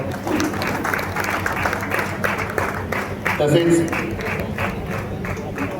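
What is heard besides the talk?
audience applauding at an honour ceremony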